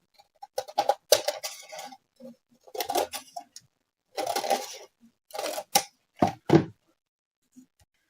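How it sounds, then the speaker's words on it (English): Scissors cut the foldable top off a white paper popcorn bag in a series of short, crisp snips with brief pauses between them. They are close and dry, with no talking. "take a scissors and cut off the foldable part of our popcorn bag"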